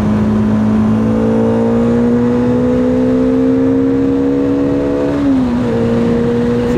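A Bajaj Dominar 400 motorcycle accelerates on the road toward about 100 km/h, its steady engine drone rising in pitch before a brief dip at a gear change, close and loud throughout with no talking.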